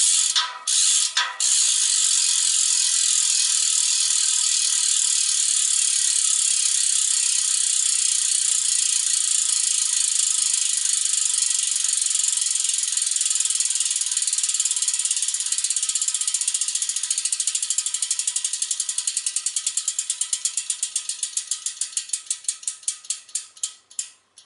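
A bicycle rear hub with one freewheel pawl removed clicks in a fast, continuous ratchet as the wheel spins freely, the clicks slowing and spacing out into distinct ticks as the wheel coasts to a stop.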